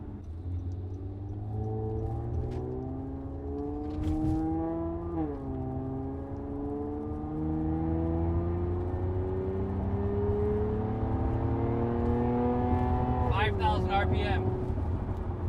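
A 2013 Honda Accord Coupe V6 with a Borla exhaust, in sport mode on a back road, pulls through rising engine tones with two clear gear shifts. The sound is fairly soft and heard from inside the car.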